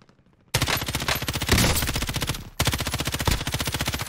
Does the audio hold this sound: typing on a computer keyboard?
no